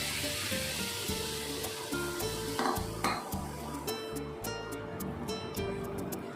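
Semolina with fried tomato and a cup of water is stirred in a pan: soft scraping and a low sizzle up close, with occasional clinks of a spoon against the pan over a quiet tonal background.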